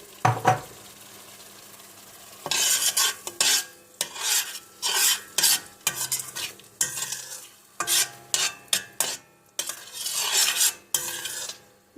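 Pasta sauce cooks in a pan, stirred in repeated scraping bursts with soft sizzling between them, close and fairly loud, with no talking.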